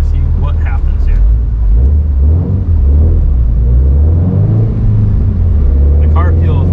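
A Ford Mustang engine runs on a dyno with a deep, loud rumble that rises and falls as it is revved, while someone talks over it.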